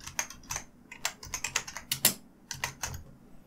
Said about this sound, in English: type in learning map